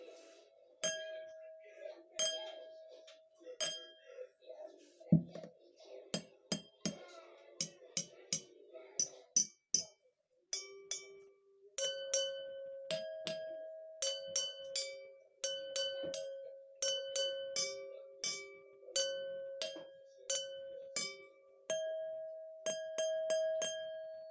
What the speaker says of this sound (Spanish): Vamos a poner atención en el sonido, cómo se produce dependiendo de la cantidad de agua que tenemos.